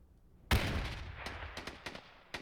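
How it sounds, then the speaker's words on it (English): Explosions and gunfire in a multiplayer war video game. One loud blast comes in, then decays into rumbling, and several sharp shots follow at irregular intervals. "Explosions."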